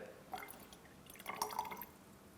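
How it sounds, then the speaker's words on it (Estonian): Dissolved food colouring trickles into the water of a flower vase, giving soft intermittent drips and small splashes in two brief bursts, faint and close. "Lisame vees lahustatud toiduvärvi siia lille vette"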